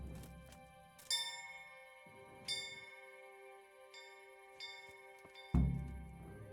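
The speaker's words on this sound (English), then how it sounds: "There's the bell. Ding ding." Town bell in the medieval game Kingdom Come: Deliverance, a few widely spaced metallic dings with long ringing tails, fairly quiet and alone against a dim background.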